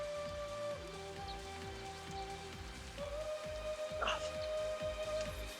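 Rain falls in Final Fantasy XIII after a weather change, a steady, soft patter underneath looping game music with a brief bright chime in the middle.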